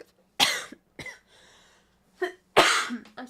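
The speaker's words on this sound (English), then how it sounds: "I'm sorry, I'm coughing on you" A person coughs several times, two strong bursts and a few shorter ones separated by quiet gaps, close to the microphone.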